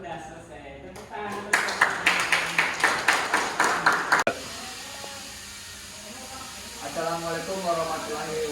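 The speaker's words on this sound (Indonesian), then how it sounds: "Tepuk tangan." A classroom audience claps at the end of a class presentation at a vocational school, with about two seconds of quick rhythmic applause. It stops abruptly, followed by quiet room tone and faint talk.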